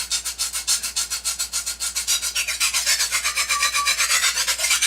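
A knife is sharpened on a piece of lake-shore sandstone with quick, steady back-and-forth strokes, each one a close, gritty rasp in an even rhythm with no talking.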